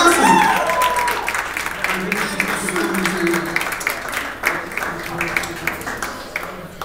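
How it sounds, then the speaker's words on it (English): Audience applause and cheering greet a hip-hop artist called to the stage at a live show, a steady wash of clapping from a crowd with voices mixed in. "everybody, give him a round of applause"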